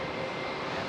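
A JetBlue airliner with a fault, kept on ground power at Raleigh-Durham International Airport, gives off a steady, broadband engine roar that holds level and fairly loud throughout, with no talking over it.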